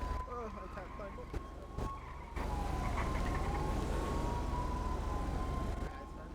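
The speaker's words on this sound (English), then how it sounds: "Sirens, but they sound like they're on the freeway," Distant emergency sirens wail from a freeway, a faint wavering tone rising and falling steadily behind broadband traffic rumble, with a few close knocks and handling noises early on.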